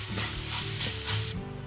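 Chickpea flour batter sizzles loudly in a hot pan as it begins to set and is stirred, giving a steady frying hiss with rhythmic scraping strokes close by.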